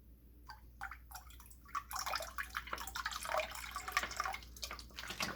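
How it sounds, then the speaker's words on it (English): Liquid is poured into a glass, a quiet trickling and dripping that starts sparse and grows into a steadier splashing stream, heard up close with no talking. "like the liquid being poured into a glass"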